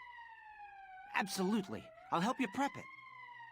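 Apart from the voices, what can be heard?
emergency siren in the video game Valkyria Chronicles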